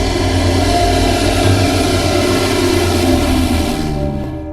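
A Lockheed Electra propeller airliner takes off with a loud, sustained engine and propeller drone. The tone is close and constant, then drops away abruptly at the end.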